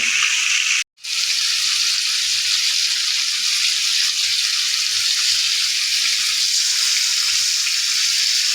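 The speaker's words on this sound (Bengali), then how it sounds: "এখন মাছটাকে আমরা তেলের মধ্যে ভাজার জন্য ছেড়ে দিচ্ছি" Swarputi fish fries in oil with a loud, even, high sizzle that cuts out for a moment near the start before continuing steadily.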